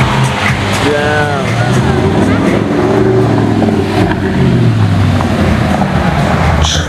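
Several Lamborghini supercars rev loudly nearby, deep engine roar rising and falling with a sweeping pitch climb, while voices talk over the noise.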